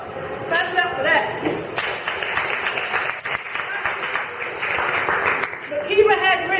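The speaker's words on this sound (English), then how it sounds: "Clap it up for that." Audience applause at an anniversary celebration, a broad steady wash of clapping across the whole stretch with voices mixed in, swelling again toward the end.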